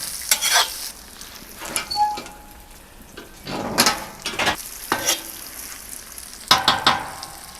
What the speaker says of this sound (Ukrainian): Морква смажилась буквально одну хвилину.